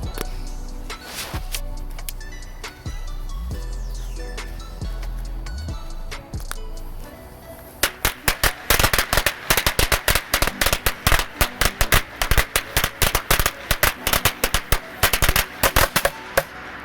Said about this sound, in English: These good firecrackers here are long due.